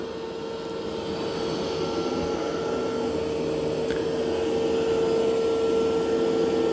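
A Mova P10 Pro Gen 2 robot vacuum running over carpet gives a steady, unbroken motor drone with a constant high whine, close by and alone.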